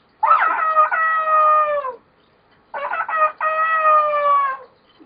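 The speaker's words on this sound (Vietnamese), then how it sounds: "con gà trống" A rooster crows twice, two long drawn-out calls about a second and a half each with a pause between, loud and close against silence.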